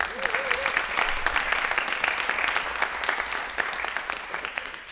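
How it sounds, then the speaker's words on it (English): An audience at a Pittsburgh city council meeting applauds, a dense wash of clapping that holds steady and then gradually thins, with a brief voice or whoop near the start. "I want to give a round of applause for all my friends, family."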